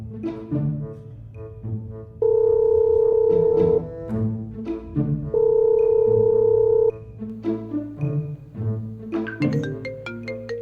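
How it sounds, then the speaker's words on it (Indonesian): A telephone rings twice, each a long steady electronic tone of about a second and a half, loud and close, between stretches of talking. "Mudah-mudahan ada kabar bagus nih Bu Maria telepon nih."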